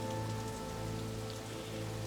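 Steady, dense rain falls without pause across the whole stretch in the video game Das Schwarze Auge: Satinavs Ketten, a continuous hiss of drops hitting surfaces at moderate loudness with no voices.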